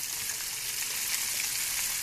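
Fish fries in hot oil on a stove, giving a steady, even sizzle with soft crackling pops throughout, moderately quiet and close, with no talking.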